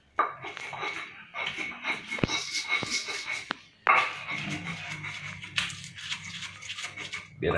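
Spices being ground by hand with a stone mortar and pestle for a spice paste, with close scraping and irregular knocks of stone on stone and a few sharp taps, mostly by themselves.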